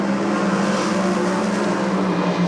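A drag racing car launches hard off the line at an NSW Championship Series round, engine roaring loud and steady under full throttle for the whole moment, with no voices over it.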